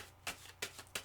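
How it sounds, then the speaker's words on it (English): A deck of cards is shuffled in three quick, crisp riffling bursts, close up and fairly quiet, with no one talking. "Sorry, I need another shuffle."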